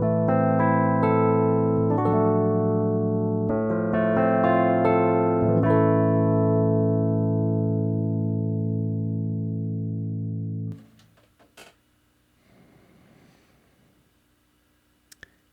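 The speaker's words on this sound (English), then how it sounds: "Here's a vintage Tynes Mark II, and this is what it looks like" Vintage Tines Mark II electric piano modelled in Pianoteq 8, a few bell-like sustained chords and notes ringing out clearly for about ten seconds before fading, followed by faint quiet clicks.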